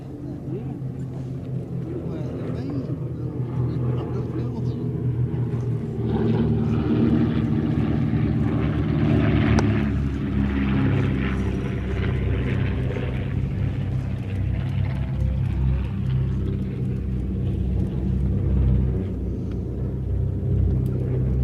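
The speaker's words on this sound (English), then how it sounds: "Described to me once as the world's only Art Deco aeroplane, and as such it is." A propeller aeroplane engine on a 1930s Art Deco-styled light aircraft, likely at the Shuttleworth airfield, drones steadily and loudly throughout with a deep low rumble and slight swelling, while a voice talks over it.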